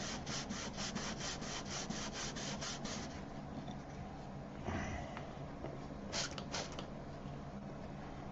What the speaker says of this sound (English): You can feel it as you're sanding. You know, it'll go from pretty coarse, like you can hear it there